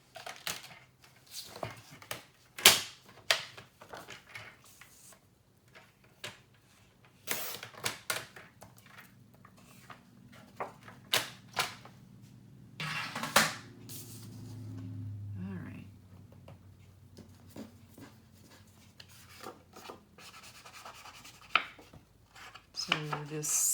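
A paper trimmer slices card stock down to size for a mini album, giving sharp isolated snaps and short slides of the blade, with quiet pauses and low room hum between cuts.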